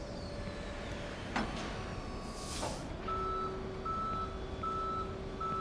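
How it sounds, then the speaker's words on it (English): A tow truck backing up in a police simulator video game, its reversing beeper sounding in regular repeated tones over a low engine rumble, with a brief air-brake hiss before the beeping starts. "There's a tow truck right there."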